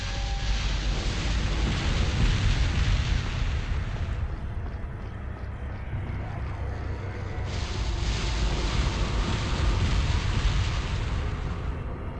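A continuous heavy roar of booming cannon fire in Resident Evil 4, loud and sustained, with rumbling low-end blasts that swell and ease without any speech.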